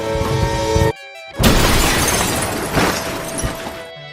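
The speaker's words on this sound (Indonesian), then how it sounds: "namun kecerobohannya berujung pada kecelakaan mobil" A car crash in a film about a music student: a sudden loud impact with shattering glass and crunching debris that rolls on and decays, cutting in after a short gap in the music score.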